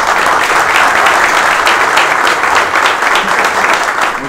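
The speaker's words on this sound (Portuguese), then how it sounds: "uma grande salva de palmas para todos nós." Loud, sustained applause from a crowd after a Copa do Brasil football match, dense clapping that holds steady throughout.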